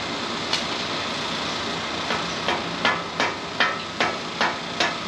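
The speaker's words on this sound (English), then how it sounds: "I'm gonna take a hammer with this CV axle that I'm trying to get out" Hammer blows land on a stuck CV axle of a 1996–2001 Toyota 4Runner, with a single hit and then a run of about seven sharp metallic strikes at a steady pace over a constant background hum.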